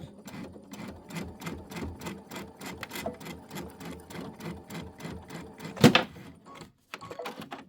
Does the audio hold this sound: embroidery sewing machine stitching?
yes